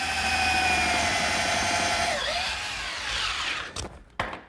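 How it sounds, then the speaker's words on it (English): A power drill drives 1-inch screws through pre-drilled holes into a wooden dresser drawer front, giving a loud, close, sustained whine that slows and winds down, followed by two brief clicks as it stops. "Now some 1-inch screws in pre-drilled holes will attach the front permanently."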